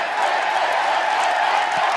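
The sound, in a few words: wrestling crowd cheering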